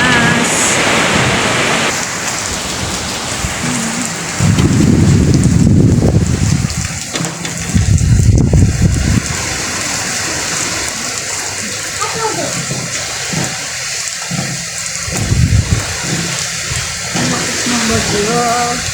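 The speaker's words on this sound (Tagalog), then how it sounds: "wala naman signal pero ang lakas ng hangin at saka ulan" Strong typhoon wind and rain: steady rushing rain and wind noise throughout, with louder gusting surges and people talking over it.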